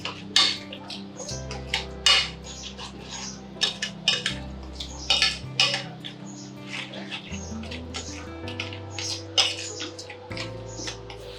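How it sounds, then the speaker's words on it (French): Spices being mixed in a pan on a cooking show, with repeated sharp clinks and scrapes of a utensil against metal in irregular bursts over steady background music. "Donc là, nous mélangeons les différentes épices."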